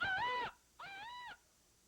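An arena football player imitates a hawk call with his voice, giving two drawn-out, wavering screeches separated by a short pause, close and clear with no other talk.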